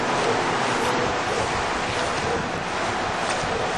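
Tropical Storm Fay wind roaring steadily with rushing flood water across a flooded yard, a loud, continuous wash of gusts and water with no voices.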